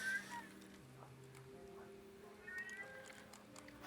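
A cat meows a couple of times at close range during a tabletop role-playing game session, the calls rising and falling over a background of people talking.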